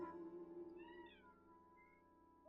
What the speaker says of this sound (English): Please excuse my kitty cat.